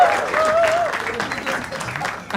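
Steady clapping from a studio audience at the India's Got Latent comedy talent show, filling the whole stretch at an even level, with a brief tonal voice-like sound riding over the opening second.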